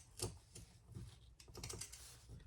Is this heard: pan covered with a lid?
no